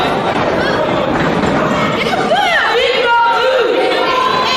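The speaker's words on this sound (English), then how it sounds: "Crowd calling for Grappler." A wrestling crowd in Portland chants and yells for a wrestler in a continuous loud roar of voices, with shouts and whistles rising over the din.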